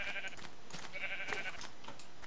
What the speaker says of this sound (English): Hey, sheep.